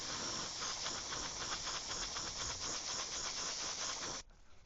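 An airbrush sprays paint in a steady close hiss over a lipless crankbait fishing lure, then cuts off sharply near the end to near quiet.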